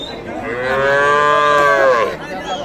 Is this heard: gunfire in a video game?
no